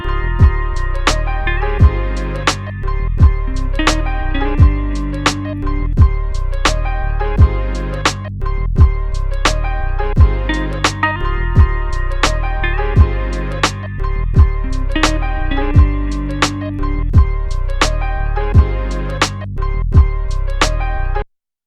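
A looping beat pattern from an SP-404 MK2 sampler, with a guitar sample layered on top, plays steadily with punchy drum hits and sustained melodic tones, loud and close, no voices, ending abruptly.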